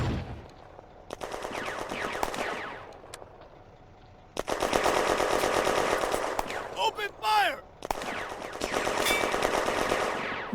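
In a May 1940 battle game set in an industrial zone, bursts of machine-gun and rifle fire with mortar fire rattle loudly in long volleys, broken by brief pauses and a short whistling stretch.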